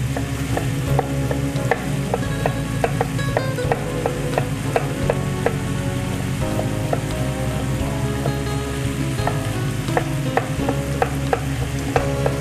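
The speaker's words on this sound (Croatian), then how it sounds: "piletinu pržimo toliko da dobije boju." Chicken frying in a pan while being stirred, a steady sizzle with repeated scraping clicks of the utensil, close and continuous.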